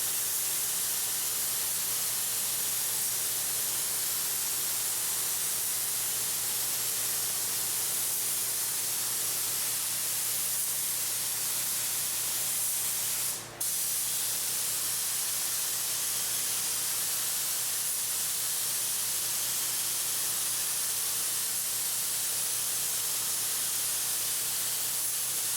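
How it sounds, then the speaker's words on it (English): Spray gun applying EkoFill roof coating, a steady broad hiss running continuously at even loudness for the whole stretch, with only a brief click interrupting it partway through. "On this particular spray gun, and most quality spray guns,"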